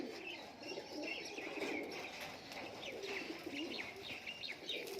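Giribaz high flyer pigeons in a loft murmur with soft, continuous cooing and light chirps, faint and close, with no voices.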